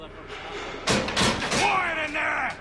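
Several loud, close bangs of a prison cell door being struck in Assassin's Creed III, in a quick cluster with a voice talking around them.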